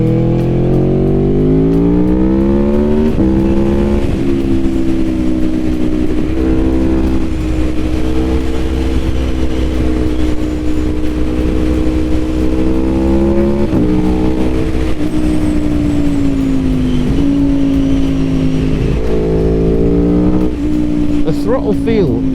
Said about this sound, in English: That instant throttle response really does make this thing a joy to ride.